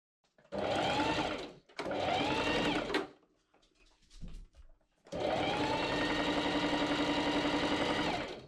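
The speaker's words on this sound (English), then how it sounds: "I pin and machine sew those together along one side." A sewing machine stitches interlining and cotton twill trouser pieces together for Regency-style pantaloons, running in three bursts: two short runs, then a longer steady whir after a pause with a few faint handling noises.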